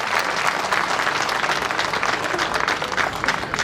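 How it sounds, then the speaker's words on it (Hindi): A large crowd claps vigorously at a memorial gathering for Pandit Deendayal Upadhyaya's death anniversary, producing loud, sustained applause that stays dense and even from start to finish. "तो एक बार तालियां हो जाए जोरदार ढंग से।"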